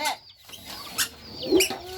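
A chicken clucks in short, irregular bursts close by, with soft background noise and no talk over it.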